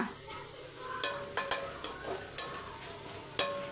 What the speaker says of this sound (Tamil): சுக்காவுக்கு வந்து இந்த ஆனியன் ஃப்ரை பண்ணுறது தான் ஒரு டாஸ்க்குனே சொல்லலாம்